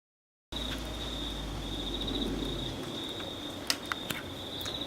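A lone cricket chirps steadily at midnight in late February, a continuous high trill in the background with a few faint clicks, no voices present.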